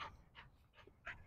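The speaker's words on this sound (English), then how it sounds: "You're such a good dog." A dog panting in a few quick, soft breathy puffs at close range, quiet and brief, with no talking.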